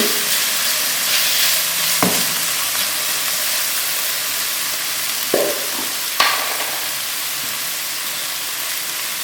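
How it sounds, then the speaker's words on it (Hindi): Mustard seeds roasting in hot oil for chana chaat, a steady close sizzle and crackle with a few sharp clinks of a spoon against the pan, no talking. "उसके बाद हम 1 चम्मच राई का डाल देंगे। इसको थोड़ा सा रोस्ट करेंगे"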